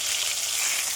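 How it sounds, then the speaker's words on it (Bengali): Hot oil spattering around frying catla fish, a dense, bright hiss of crackles and spits heard up close for a brief moment, no speech. "এত তেল ছিটাচ্ছে"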